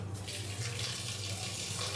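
Water is poured into a cooking pot of turmeric-seasoned food before pressure cooking, a faint, steady trickle and splash in a quiet kitchen.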